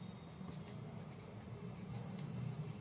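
A pen or pencil writing on paper gives a soft, continuous scratching, faint and close, with no talking.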